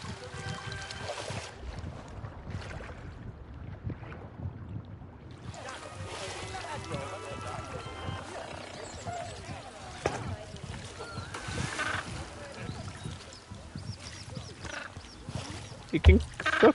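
A submarine in the Planet Zoo video game bobs along at the water's surface, giving a continuous sloshing, lapping water wash with occasional splashy bumps near the end.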